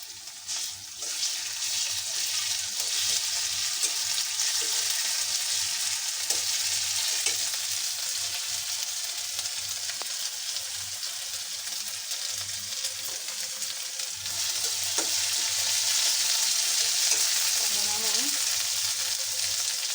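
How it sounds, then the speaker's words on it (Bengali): Onions fry lightly in a pan as garlic paste is added, giving a continuous bright hiss of sizzling oil with a few faint scrapes and clicks of stirring. The sound holds steady and close for the whole stretch. "পেঁয়াজটা হালকা ভাজা ভাজা হবে, এখানে আমি রসুন বাটা দিয়ে দেবো"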